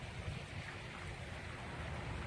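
Kearsley Creek in southeast Michigan, flooded over its banks, rushes in a steady, dense wash of flowing water with no voices.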